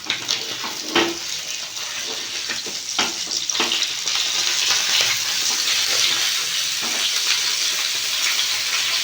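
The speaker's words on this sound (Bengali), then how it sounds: "এদিকে মাছটা ভাজা হতে থাক" Pabda fish fries in hot oil in a pan, giving a loud, continuous sizzle broken by occasional clinks and scrapes from stirring or turning.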